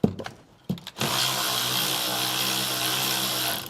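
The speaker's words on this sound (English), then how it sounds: "Now use your 6mm or whatever is used to hold down your caliper slider bolts and remove them as well." A tool loosens a 6mm caliper slider bolt during a brake pad and rotor job: a few brief clicks, then a loud, steady, buzzing mechanical whir that runs on evenly to the end.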